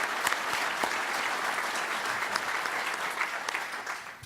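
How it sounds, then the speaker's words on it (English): Moderate applause from a conference audience at a modeling and simulation caucus, steady dense clapping with a few sharper individual claps standing out, holding level throughout. "give Randy a round of applause for all of what he's done"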